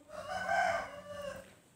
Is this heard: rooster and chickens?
yes